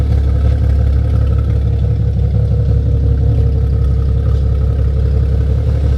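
A V6 Camaro with a catless ZL1 NPP 2.5-inch aftermarket exhaust idles with a deep, steady exhaust rumble, loud and close, running continuously without revving or voices.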